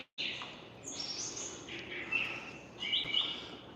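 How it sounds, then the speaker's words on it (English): Bird calls in a room of a wildlife museum, several chirps and short whistled notes over a quiet hum of the room, moderately faint with no talk. "Can you hear the bird noises?"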